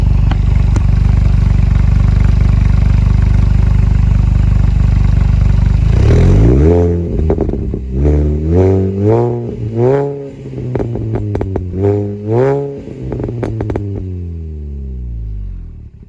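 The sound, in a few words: car exhaust idling and revving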